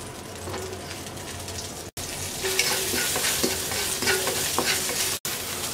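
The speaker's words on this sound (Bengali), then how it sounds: "এবার আমরা 5টা কাঁচা মরিচ আর 4টা শুকনা মরিচ ভেজে নেব।" Five green chilies and four dried chilies fry in a pan with a steady, close sizzle. A utensil stirs and scrapes now and then, with two brief dropouts and no voices.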